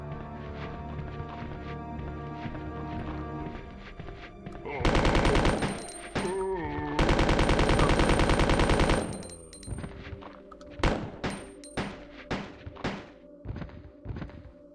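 Gunfire in Resident Evil 2, with Ada and Leon's weapons: sharp single shots, then two dense bursts of rapid automatic fire, followed by scattered separate shots over a droning game soundtrack.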